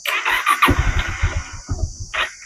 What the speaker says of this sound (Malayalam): എഞ്ചിൻ സ്റ്റാർട്ട് ചെയ്യാൻ പറയും. നമുക്ക് സെൽഫ് തന്നെ